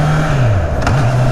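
A Honda CB650R motorcycle engine drones loudly and steadily, its pitch dropping and then jumping back up in a brief lurch as it downshifts under engine braking.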